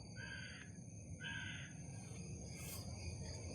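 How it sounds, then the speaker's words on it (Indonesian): Two faint, distant crow caws, evenly spaced, over a steady low rumble of outdoor background noise at a graveyard. "Tiba-tiba ada suara gagak, burung gagak."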